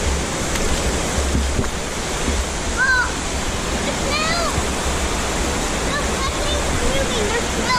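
Eden Cave Falls, an underground waterfall on the Buffalo National River, roars as a dense, constant rush of falling water filling the space, with faint chirps or calls flickering through.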